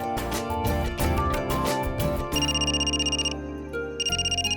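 An electronic phone ringtone plays alone, a busy melodic tune with bright repeating bursts, then a steadier pulsing ring pattern that pauses briefly and resumes.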